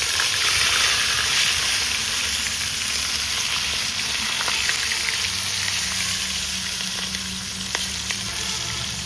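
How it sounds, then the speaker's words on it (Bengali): Pieces of chital fish fry in hot oil in a covered pan, giving a steady, dense sizzle that holds evenly throughout with no talking. "চিতল মাছ কিন্তু ফোটা শুরু করেছে"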